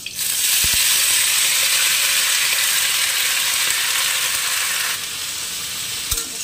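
Spinach sizzles and fries steadily in a hot pan with chillies and cumin, a loud continuous hiss that eases slightly toward the end, with a couple of brief clinks of a utensil against the pan.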